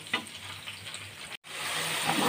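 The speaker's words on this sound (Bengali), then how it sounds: "তারপর মশলাটাকে ভালো করে কষিয়ে ফুলকপি দিয়ে দিব।" Spiced paste sizzles steadily in hot oil while being fried down for a cauliflower and katla fish curry, a continuous frying hiss with a brief cut midway before it resumes louder.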